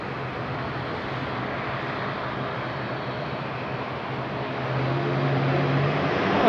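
A jet airliner at Madeira Island airport, pushing back and taxiing toward runway 23: a steady, loud engine roar with a low hum that swells slightly near the end, heard alone without voices.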